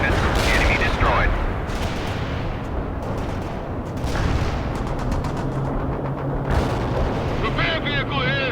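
Artillery shells burst in World in Conflict: heavy, rumbling explosions and crackling gunfire roll continuously, loud and close, with a radio-style voice briefly over the din.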